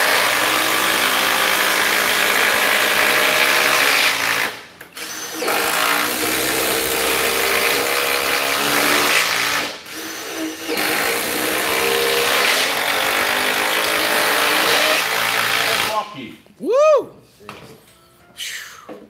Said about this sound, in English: Edgar Fava, that is the Hitachi Metabo HPT multi-volt 36-volt triple hammer